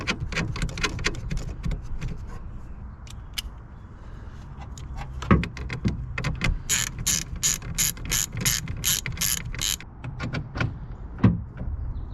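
A ratchet tightens down a horn wire on a Chevrolet Silverado, fast close clicking pawl strokes in repeated bursts with short pauses between runs, steady and fairly loud, with no talk.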